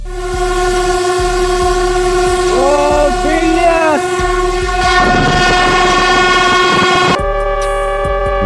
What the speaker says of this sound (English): Safety first when a freight train is rolling at 60 miles per hour.